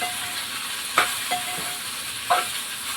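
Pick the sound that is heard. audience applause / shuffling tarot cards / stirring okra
stirring okra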